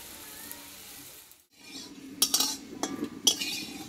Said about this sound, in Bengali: পরপর আমি টিফিনগুলো একই প্রসেসে ভেজে নেব